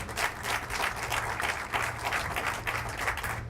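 An audience at an NCAA press conference applauds the local organizing committee with steady, moderately loud clapping from a room full of people.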